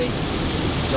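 A heavy downpour in Elmira, New York gives a dense, steady roar of rain, close and loud throughout, with no break in the hiss.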